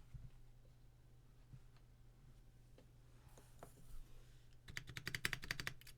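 Faint clacking comes from a custom mechanical keyboard with a scratchy, over-lubricated spacebar stabilizer, starting as sparse isolated key presses over a low steady hum, then turning into a quick run of rapid typing toward the end.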